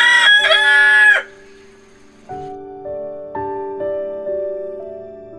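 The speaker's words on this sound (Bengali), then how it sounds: "সকালে অ্যালার্ম হিসেবে মোরগের ডাকে যথেষ্ট।" A rooster at a hillside homestay in Tabakoshi, Mirik, near Darjeeling gives one loud, close crow lasting about a second, followed by quieter, sustained tonal sounds in the background.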